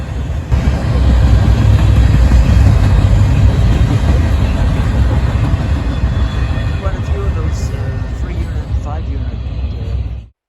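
A loud intermodal freight train rumbles past nearby, a dense steady roar of wheels and cars with faint clacking, continuing for several seconds.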